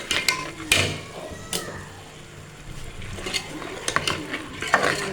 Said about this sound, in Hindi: इनको अच्छी तरह से हम फ्राई करते हैं।